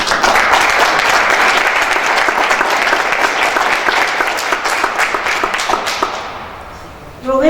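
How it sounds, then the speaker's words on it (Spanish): Audience applause at a cultural event, sustained dense clapping at full volume for several seconds, thinning and fading out toward the end before a voice begins. "Un aplauso para ella."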